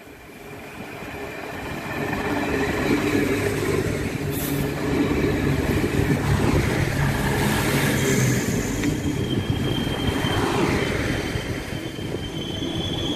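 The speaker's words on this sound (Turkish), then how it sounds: "Ve bir yıl sonra tren geliyor." A passenger train rolls past near Zonguldak, a steady loud rumble of wheels and carriages with faint squealing and metallic clatter that builds and holds for most of the pass, with no one speaking.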